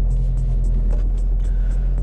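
A Volkswagen Tiguan's 2-litre turbo diesel engine idles with a steady, deep rumble, close and constant, with faint periodic ticking above it.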